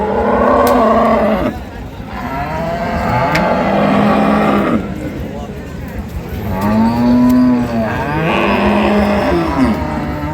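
Several dairy cows at a village cattle market low repeatedly, long drawn-out moos overlapping close by against a steady background of crowd noise.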